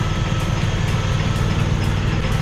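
An impact mole's engine runs steadily while laying a new water main, its exhaust note a loud, continuous low chug with slight rhythmic pulsing and no pauses.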